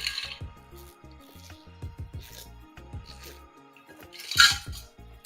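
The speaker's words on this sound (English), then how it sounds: "let me get a sip of water" Someone takes a sip of water up close, with wet slurping, dripping and small mouth sounds in short repeated bursts.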